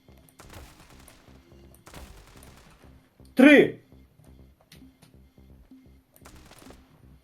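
Quiet rapid clicking and faint Standoff 2 game sounds run throughout, with one sharp loud gunshot blast ringing out near the middle.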